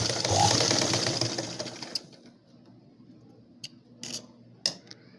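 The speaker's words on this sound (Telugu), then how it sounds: "ఈ విధంగా ఒక వైపు కుడుతున్నాను అంచు భాగాన్ని." A sewing machine runs steadily while stitching the edge of a blouse, then stops, leaving a few faint clicks and taps of fabric and machine handling.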